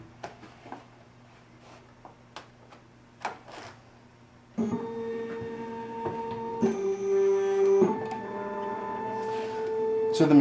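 Akiles FlexiCloser automatic wire closing machine binding a half-inch book: soft ticks and clicks, then a steady whirring motor hum with tonal shifts as the mechanism cycles, close and moderately loud.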